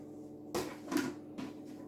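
Fridge door handling as homemade amber Altbier-style ale is put inside to ferment, a few close knocks and thuds in quick succession with no talk.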